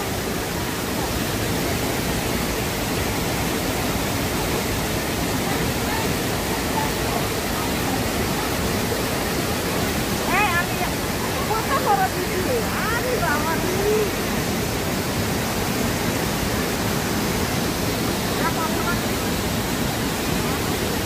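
Kegon waterfall in Nikko, Japan, roars as a loud, unbroken rush of falling water, with people talking faintly in the middle.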